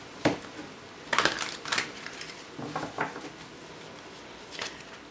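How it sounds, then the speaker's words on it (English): Large oversized tarot cards being shuffled by hand, producing several crisp riffling bursts broken by short pauses and heard up close in a quiet room. "They're quite big cards, so they're just that little bit more difficult to shuffle."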